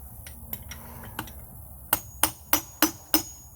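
Heavy-duty half-inch Power Built chisel struck repeatedly with a hammer during a Volvo V70 engine teardown: light taps give way to five sharp, loud metallic blows at an even rhythm, close and clear.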